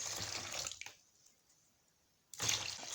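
Water pours from a container into a homemade liquid air freshener mixture, a steady splashing gush that stops, leaves a brief quiet, then resumes loud and close.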